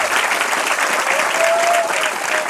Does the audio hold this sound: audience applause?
yes